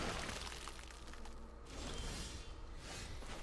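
A Soul Shatter card effect from a digital card game plays as a dense, crackling shatter with whooshing sweeps, sustained and fairly quiet throughout with no voices over it.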